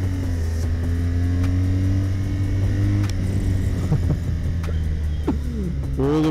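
A BMW R1200 GS Adventure motorcycle with a 1200 cc engine accelerating on an open road, a steady loud throbbing drone rising in pitch with wind roar, ridden close, with no talk.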